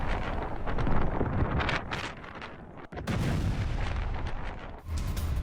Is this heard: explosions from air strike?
yes